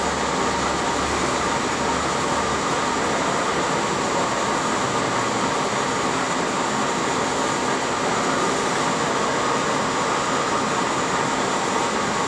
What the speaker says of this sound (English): So we're showing the carriage feed longitudinally